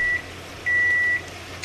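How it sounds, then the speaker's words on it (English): Kitchen timer going off indoors, with a short electronic beep followed by a longer, steady beep, both clear over a quiet background hum. "now the timer's going off"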